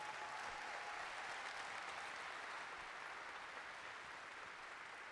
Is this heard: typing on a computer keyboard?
no